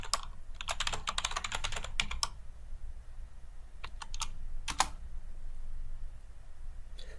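Typing on a computer keyboard while entering a MATLAB command: clustered bursts of quick, close key clicks with pauses between groups, no talk.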